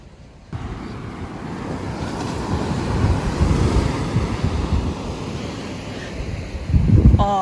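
Large ocean waves surge and wash onto a rocky Bermuda beach, with a steady roar and wind noise and a fresh wave rising near the end. The surf sounds close and loud.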